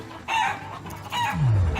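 Chickens cluck in the video game Shenmue III, two short bursts of close, loud fowl calls, ending in a low sweeping tone.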